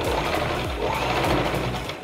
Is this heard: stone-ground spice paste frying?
no